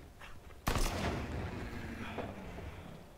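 A sniper rifle fires once in a video game, a single sharp loud crack with a long booming tail that rolls on for a couple of seconds.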